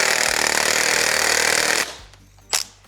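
A cordless power tool gun, used while fitting a junkyard LS engine into a 1958 Chevy pickup, whirs loudly and steadily for nearly two seconds, then cuts out as its battery dies, followed by a brief sharp hiss.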